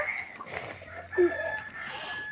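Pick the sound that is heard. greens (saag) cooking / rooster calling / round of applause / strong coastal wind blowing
rooster calling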